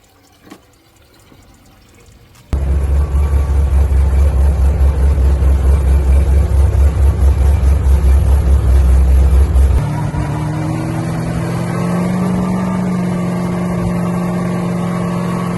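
Corvette ZR1 running on a dyno, a quiet start giving way to a sudden loud, sustained low engine drone that drops to a steadier lower roar near the end, no talk.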